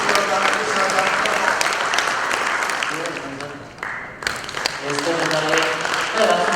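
An audience applauds at a Buddhist assembly's inaugural ceremony, with steady clapping that briefly drops away before resuming, while people talk over it.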